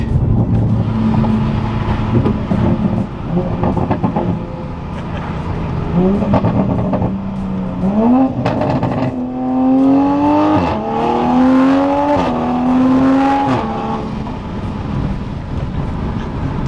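An A90 Toyota Supra with a Magnaflow X-Mod active exhaust revs repeatedly, rising and falling in pitch with a loud, raspy exhaust roar, recorded up close amid wind noise.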